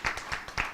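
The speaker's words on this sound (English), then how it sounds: "we clap for that as well." A few scattered hand claps, four or five sharp bursts at an uneven pace, fairly quiet and without voices.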